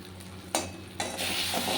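Cumin and Kashmiri chili powder masala being sautéed in a pan for a cauliflower dish: a low sizzle broken by two sharp stirring scrapes, the frying then swelling louder and steady.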